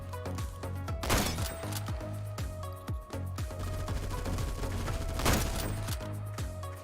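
Gunfire from the Intervention sniper rifle in Roblox Phantom Forces rings out amid a busy battle, with repeated sharp shots, two big crashing blasts and continuous background weapon fire, all fairly loud.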